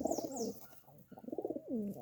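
Pigeons coo close by in soft throaty rolling bursts, one run of calls, a short pause, then another pulsing sequence, with faint chirps above.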